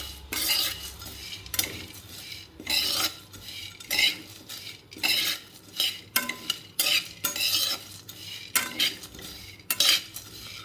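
Dry fruits and watermelon seeds dry-roasted in a pan for date laddoos, stirred with a metal spoon in about a dozen distinct scraping strokes, close and rhythmic, with a faint sizzle between and no speech.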